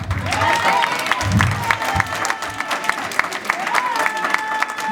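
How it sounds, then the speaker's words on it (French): Wedding audience applauding, dense clapping mixed with crowd cheers and voices, fairly loud and continuous over a low rumble. "Applaudissez pour vous-même"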